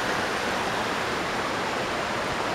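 Glen Creek in Sugar Hill State Forest rushing past a gravel and clay hillside, a loud, steady broadband water roar close by with no talk.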